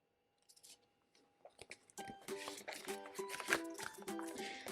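Scissors cutting holes in paper plates, starting with a few faint snips, then a quicker run of crisp, close crunching cuts.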